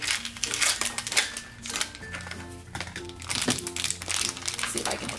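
A Disney Doorables package is torn and twisted open by hand, giving loud, continuous crinkling and crackling of plastic packaging, with faint voices and background tones underneath.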